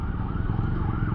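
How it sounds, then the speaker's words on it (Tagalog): An ambulance siren wails continuously with a slowly rising and falling tone, heard over low engine rumble from a motorcycle on a ride in Zambales. "ito yung ambulansya galing ano kanina"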